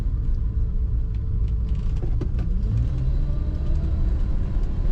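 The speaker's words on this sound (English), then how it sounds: "Let's go through the corner here and accelerate one more time." A 1972 Plymouth Gold Duster engine rumbles steadily and rises in pitch as the car accelerates through a corner, heard from inside the cabin with constant road noise.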